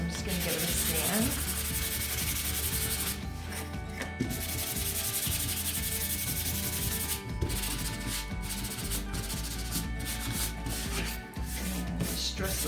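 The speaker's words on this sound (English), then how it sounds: "I'm just going to give it a sand." Sandpaper rubbed back and forth over a small laser-cut wooden kit piece, a steady scratchy rasping with brief pauses, close and fairly quiet.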